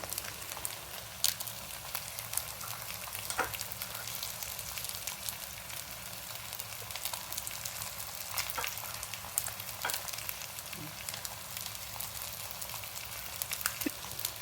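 Murrel fish pieces coated in masala frying in a pan, giving a steady soft sizzle with occasional crackles and pops, fairly faint and continuous.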